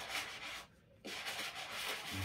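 A medium-bristle brush scrubs a dirty powder blue sneaker, making close, soft rhythmic rubbing and swishing that pauses briefly partway through, with no talking.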